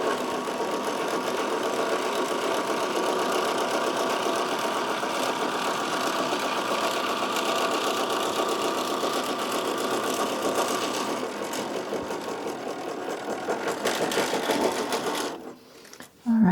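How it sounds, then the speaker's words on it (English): A sewing machine runs steadily and loudly up close for about fifteen seconds as it stitches and backstitches a fabric casing on velvet, then slows and stops with a final clunk. "take a couple stitches and backstitch, and that will be where the other side of the casing will be"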